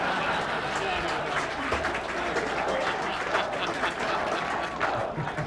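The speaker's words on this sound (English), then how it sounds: "the Knicks fans tried hard to root their team on, especially in the fourth quarter with this chant for Patrick Ewing" Knicks fans in Madison Square Garden chant and cheer for Patrick Ewing during a fourth quarter, a loud, dense crowd roar with rhythmic clapping pulses running throughout.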